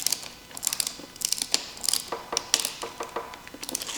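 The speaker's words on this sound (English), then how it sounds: "And let me show you how the ratcheting works." Ratcheting screwdriver from a basic tool kit turning a Phillips screw, a run of quick dry mechanical clicks in short uneven bursts, close and crisp with no talking.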